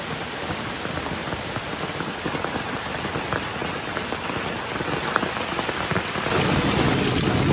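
Heavy monsoon rain in Konkan pours steadily onto surfaces, a dense, loud, continuous hiss and patter that swells slightly toward the end.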